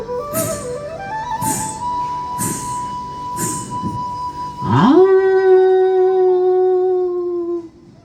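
A voice imitates jackals and dogs howling at night: a run of short yelps, then one long, rising, sustained howl that holds steady before cutting off, loud and close.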